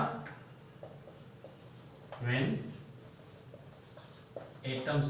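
A teacher writes on a classroom board, with soft scratchy strokes and a couple of louder rubbing bursts, and faint speech underneath.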